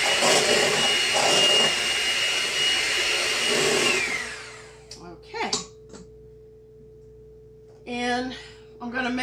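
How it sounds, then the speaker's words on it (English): Three eggs being beaten in a bowl for a pineapple upside-down cake: a loud, steady whirring drone for about four seconds that abruptly stops, followed by short bursts of talking. "I'm going to beat these eggs before I put the other ingredients in."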